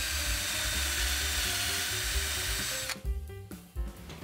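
A power drill bores into reclaimed barn wood with a steady, close whine for about three seconds, then cuts off, leaving a few faint knocks.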